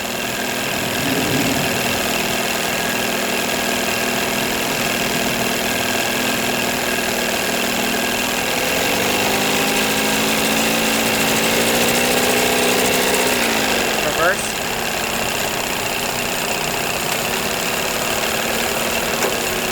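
A 1982 Evinrude 9.9 hp long-shaft outboard motor idles steadily and loudly throughout, a continuous engine drone with a brief shift in pitch partway as the idle is adjusted; no one talks.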